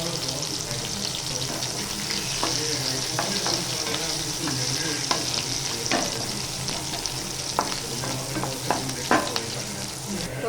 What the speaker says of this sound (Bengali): তো তেলটা গরম হয়ে গেছে, এখন দেবো ফোড়নে শুকনো লঙ্কা, কালো সর্ষে। তো এবার কুচিয়ে রাখা পেঁয়াজগুলো দিয়ে দেবো।